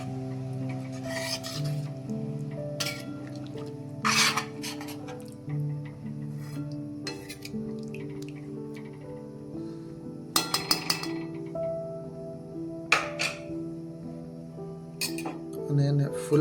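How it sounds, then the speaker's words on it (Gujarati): Potatoes and water are stirred in a metal pot for a potato curry, with repeated scraping rubs and clinks of a spoon against the pot in irregular bursts, close by. "સરખાઈથી હલાવી લઈશું."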